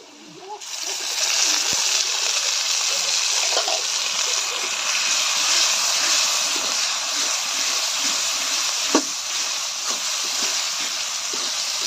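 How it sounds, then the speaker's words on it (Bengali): Onions frying in a pan with spices, including ginger, garlic, cumin, turmeric, chili and salt, give a steady loud hiss of sizzling oil that runs nearly unbroken, with a few faint clicks and taps. "পেঁয়াজগুলো ভেজে নিচ্ছি।"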